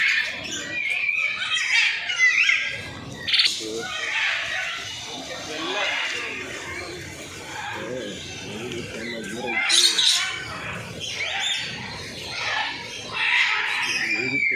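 Chickens squawk loudly in bursts among other caged animals at a zoo, mixed with busy crowd chatter and people talking close by.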